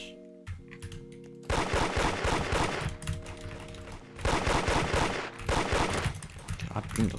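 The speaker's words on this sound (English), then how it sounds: "I'm getting shot from the back" Rapid bursts of gunfire from Roblox Da Hood crackle in dense repeated volleys, with short pauses between barrages and a steady tonal game hum underneath.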